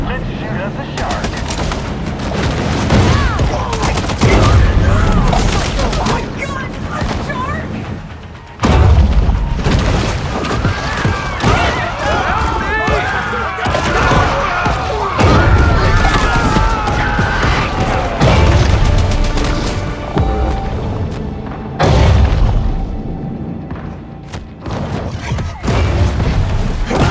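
Hunters in the video game Maneater open fire near Sapphire Bay, sustained loud bursts of gunfire and booming explosions filling almost the whole stretch, with brief pauses and some voices mixed in.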